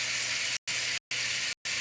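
Beef chunks spread out in a frying pan give a steady, loud, broad hiss of sizzling, cut by three brief silent gaps.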